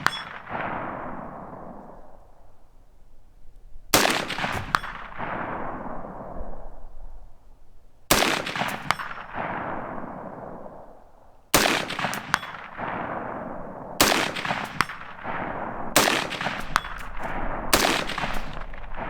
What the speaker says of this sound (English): with rapid shooting at 200 yards